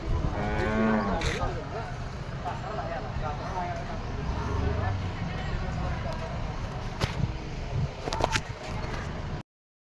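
Bulls lowing at the Murgud cattle market in Maharashtra, several drawn-out moos rising over a busy crowd of voices and market bustle, with occasional sharp knocks nearby.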